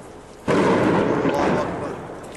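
A heavy blast from night-time artillery shelling on Moadamiyeh in the Damascus countryside, striking suddenly after a quiet moment and then rumbling loudly as it slowly fades.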